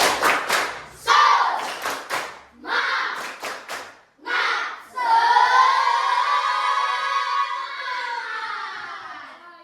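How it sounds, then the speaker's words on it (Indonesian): Indonesian schoolchildren in a classroom clap a rhythmic spirit pattern in short loud bursts, then the class breaks into a long sustained group chant or shout. "Sekali lagi kita buat tepuk semangat."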